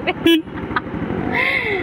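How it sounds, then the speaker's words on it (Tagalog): A short, high horn beep from a Yamaha Mio Soul 115 carbureted scooter sounds once near the start, then a nearby engine hums steadily with a faint rising whine. "Tapos tignan natin yung busina."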